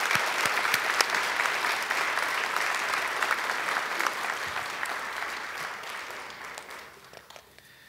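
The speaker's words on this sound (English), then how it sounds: "let's give one more round of applause to our academic" Sustained audience applause for academic award recipients at a college awards convocation, a dense steady clapping from a full room that tapers slightly toward the end.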